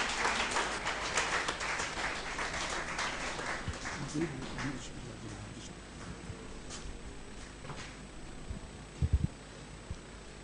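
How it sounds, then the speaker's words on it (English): A church congregation at a Methodist service in Ghana applauds, a dense wash of clapping that is loudest at the start and gradually thins and fades, with a few louder knocks near the end. "Shall we give him a round of applause?"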